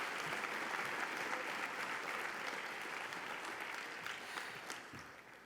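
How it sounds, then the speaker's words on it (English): Gala audience applauding continuously, a dense steady clatter of many hands heard from a distance, fairly faint and slowly tapering off near the end. "Give Maui another round of applause, please."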